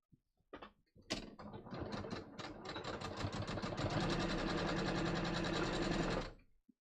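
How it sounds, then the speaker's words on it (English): A sewing machine stitching a half-inch seam in Japanese woven cotton, starting with a few clicks, then running in a steady, close mechanical whir for about five seconds before stopping. "We're going to sew a 1/2 inch."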